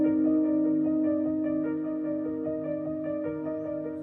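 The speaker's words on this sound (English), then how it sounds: "And then that with the three kind of layers of the chord progression, plus the two arpeggios sound like this." Layered synth pad and piano chords with two arpeggios cycling on top, forming a sustained low chord under a rhythmic pulsing pattern of repeated notes, with no voices.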